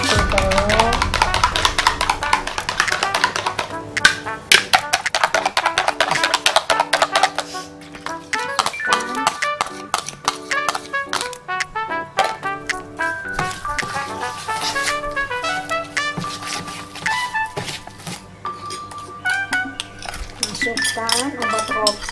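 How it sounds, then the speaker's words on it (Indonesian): Two eggs whisked in a bowl for a steamed purple sweet potato sponge cake, a fast, steady run of metallic clinks and taps against the bowl, close by, under background music. "Kocok telur 2 butir telur."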